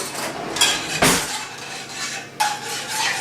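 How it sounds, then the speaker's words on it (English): A spoon stirring a seasoned mini pizza topping mixture in a dish, giving a few bright clinks and scrapes against the bowl with a louder knock near the start, close and without talk. "So I'm going to give it a quick stir."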